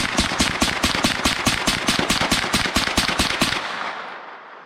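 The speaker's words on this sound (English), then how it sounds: "So I think he's going to let me shoot that thing suppressed right quick." Rapid series of suppressed shots from a Ruger PC Carbine, about twenty evenly spaced cracks fired in quick succession at close range, then a fading tail as the string ends.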